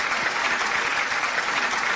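Audience applause on an Italian live show welcoming a singer, a dense, steady wash of many hands clapping at close range throughout, with no talk over it.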